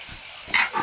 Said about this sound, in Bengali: হলুদ লবণ মাখিয়ে তেলের মধ্যে দিয়ে দিলাম। একটু এক পিঠ ভাজা হয়ে যায়